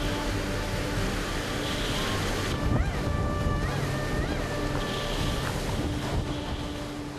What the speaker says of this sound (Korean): 파도를 넘으며 전진하는 29톤 어선. 집치만한 파도가 금세라도 배를 집어삼킬 듯하다.